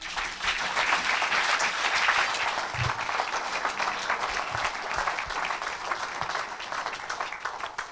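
A congregation applauds in praise of the Lord, a sustained, even wash of many hands clapping at moderate loudness for several seconds, with no talking on top.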